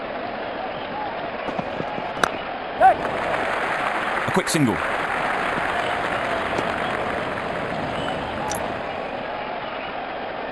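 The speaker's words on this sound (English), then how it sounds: "Crowd is going crazy here." A cricket stadium crowd at an IPL match between RCB and DC applauds and cheers in a dense, sustained roar, with a commentator talking over it and a few sharp knocks.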